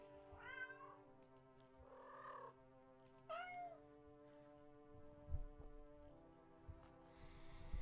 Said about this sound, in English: The sound of happy cats munching away.